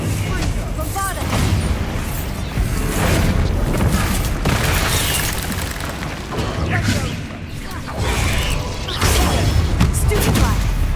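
Bombarda blasting spell cast in Hogwarts Legacy, heard as a series of loud booming blasts and rumbling impacts amid busy game combat sounds over about eleven seconds, with a voice speaking over parts of it.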